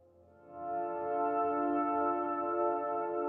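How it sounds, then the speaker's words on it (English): A sustained synth tone from a virtual instrument swells in and holds, its upper harmonics gradually rolling off under a low-pass filter sweep as the sound darkens, with no voices. "it's the introduction of a low pass filter"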